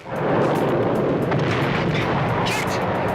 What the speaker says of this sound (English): They're still shooting at us!